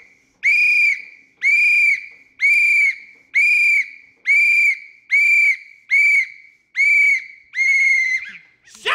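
A handheld whistle blown loudly and close in nine sharp, evenly spaced blasts, each about half a second long, with no talk over them.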